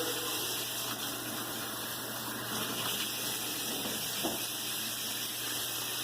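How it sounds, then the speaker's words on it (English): Water runs steadily from a newly installed kitchen faucet with a sprayer, a constant broadband rush that stays even and fairly loud throughout with no voices. "So right now we're testing the faucet."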